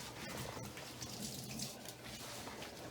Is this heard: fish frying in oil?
no